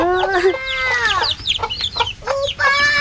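Rapid, high chirping peeps from newly hatched baby chicks, several overlapping calls close by, loud and continuous with little pause.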